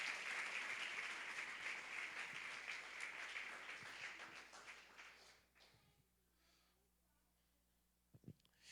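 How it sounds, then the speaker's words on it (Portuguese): A church congregation at a praise festival breaks into loud, dense applause that carries on for about five seconds, then fades to a quiet room with a couple of soft knocks near the end. "Aplauda o Senhor Jesus."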